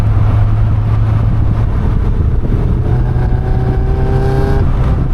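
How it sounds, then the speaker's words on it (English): Caterham 340S sports car engine running loud and close throughout, with a steady drone and rising revs before a sharp blip of a rev-matched downshift near the end. "the rev match downshifts just sound so good"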